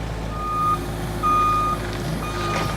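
A reversing truck sounds its backup alarm, loud steady beeps in long even pulses over a low idling engine rumble, close by.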